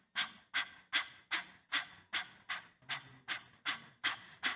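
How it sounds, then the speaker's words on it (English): Rhythmic panting breaths done as a diaphragm exercise in a choir warm-up, like a dog panting: about a dozen sharp, evenly spaced breathy puffs, close and alone. "best way to sort of find that diaphragm is through panting like a dog"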